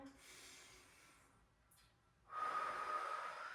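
A deep breath drawn in during a reformer Pilates workout: a brief softer breath, then a long, loud, airy inhale close to the microphone.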